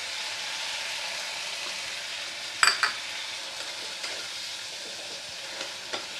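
Garlic, ginger and green chili paste sizzling in a hot pan for ghugni, a steady close frying hiss with a few clinks and stirring scrapes, no talking.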